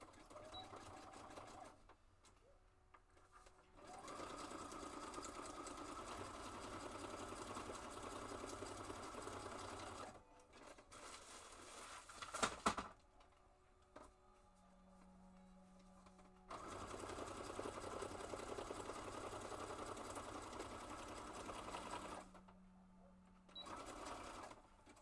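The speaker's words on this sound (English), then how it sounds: "I'm going to use a zigzag stitch." Sewing machine running a zigzag stitch on journal binding material, sounding in several steady motor bursts separated by pauses, with a brief clatter midway and no talking.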